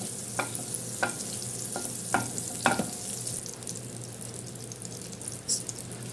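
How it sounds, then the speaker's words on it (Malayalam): Chicken fries in melted butter in a pan, giving a steady close sizzle with a few sharp scraping taps of stirring early on and no voices. "ബട്ടർ ഇട്ടിട്ടാണ് ഈ ചിക്കൻ നമ്മൾ ഫ്രൈ ചെയ്തെടുക്കുന്നത്"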